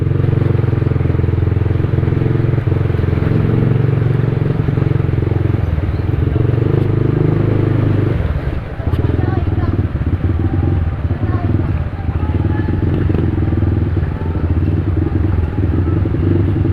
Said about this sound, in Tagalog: Susubukan ko kung hanggang saan kaya ng motor ko.